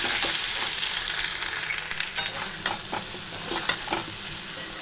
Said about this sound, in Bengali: কোয়াশ আলু ওই যে বসিয়ে দিয়েছি জিরা ফোড়ন দিয়ে